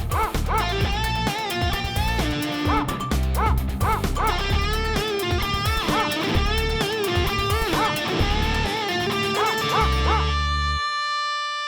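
A dog barks and whimpers in a movie scene, with repeated yips and whining cries close by that run for about ten seconds and then cut to silence.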